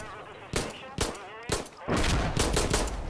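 Weapon fire in Insurgency: Sandstorm, three sharp single shots followed by a quick rapid burst, loud and close, with faint talk around them.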